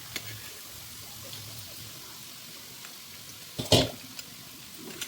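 Finely chopped garlic fries in a small amount of oil in a pan, giving a soft, steady sizzle at low volume with a few clattering stirs, one louder scrape near the end, and no talking.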